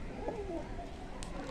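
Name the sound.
pigeons cooing in a loft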